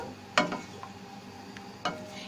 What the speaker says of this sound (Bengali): আমি এটা কাটি দিয়ে এরকম নড়াচড়া দিয়ে দিচ্ছি আর আমি এই গাজরগুলো দুই তিন মিনিট সেদ্ধ করব